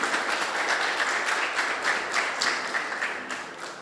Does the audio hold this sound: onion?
no